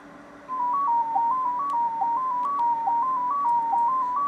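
Synthesized tone from the Pocketband Pro music app, a steady electronic waveform stepping through a repeating pattern of slightly shifting pitches, constant and fairly loud with no voices.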